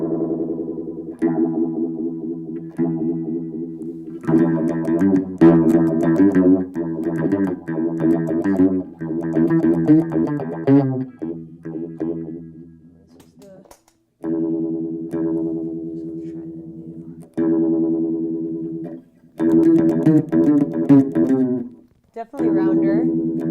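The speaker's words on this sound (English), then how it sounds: "take a stock Phase 90 and make some tweaks to it to give it a totally different sound" Electric guitar on the bridge pickup played through a modified MXR Phase 90 phaser pedal, sustained chords and short riffs with a swirling effect, loud and close, broken by a few brief pauses.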